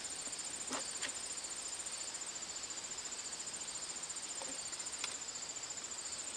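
A cricket chirps with a steady, high, pulsing trill that keeps going through the whole stretch, faint and unbroken, with a few soft clicks and taps in the room behind it and no talk.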